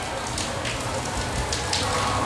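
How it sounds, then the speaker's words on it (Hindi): Heavy rain pours outside a house, a dense, steady patter and rush that fills the scene at moderate loudness, with a few brighter splashes standing out and no talking. "और घर के बाहर हो रही है बहुत तेज़ बारिश, देखो आप।"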